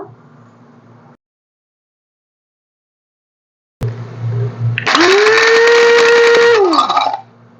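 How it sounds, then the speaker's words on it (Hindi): Electric grinder coarsely grinding whole garam masala spices (fennel, cumin, black pepper, cloves, cardamom, cinnamon), a loud whirring burst of several seconds that rises and drops in pitch, after a short spell of silence. "उसके अलावा सौंफ लाजमी डालनी है और इसे मोटा मोटा पीसना है हमने।"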